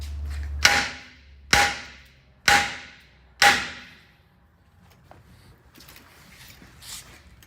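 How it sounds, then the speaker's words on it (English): A small sledgehammer strikes a metal rear bumper bracket on a 5th Gen 4Runner Overland Series four times in an even rhythm, each blow a loud ringing clang that decays. Quieter handling noises follow. "So I'm just going to use a small sledgehammer, give it a few good hits, and it'll bend down."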